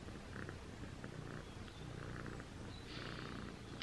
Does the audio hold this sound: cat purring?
yes